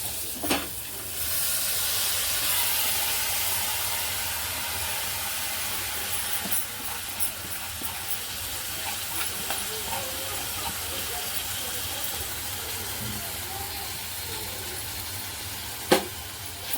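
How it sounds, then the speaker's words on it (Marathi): Soaked masoor dal drops into hot oil with fried onions and masala, setting off a sudden loud hiss that settles into a steady close sizzle, with a few faint clinks and one sharp knock near the end. "आता आपण याच्यात जी डाळ भिजून ठेवली ना ती टाकून घेऊया"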